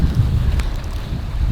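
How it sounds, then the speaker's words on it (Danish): Wind rushes past while a sailboat is under way at sea, a steady loud buffeting roar across the microphone, alone without voices. "Helt perfekt vind."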